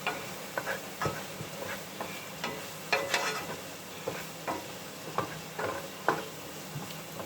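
Onions cooking in a pot on a home stove, a faint sizzle broken by a series of soft clicks and taps from stirring, spaced irregularly and quiet.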